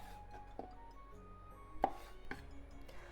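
A knife chops through food on a board while preparing shrimp and okra salad, with several sharp, distinct cuts spaced across a few seconds and a quiet background hum between them.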